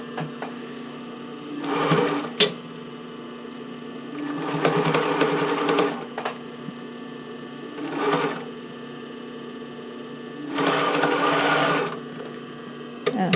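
A home sewing machine zigzag-stitching elastic while finishing a classic bra, running in four separate bursts of steady whirring, two short and two longer, with soft handling clicks between runs, close and fairly quiet.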